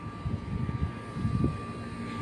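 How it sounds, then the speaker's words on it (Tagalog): The condenser fan motor of an old wall-mounted air conditioner runs with a steady low whirring hum and a constant electrical whine, close and continuous, with slight fluttering pulses in the airflow. "So yung condenser fan motor naman gumagana naman, walang problema."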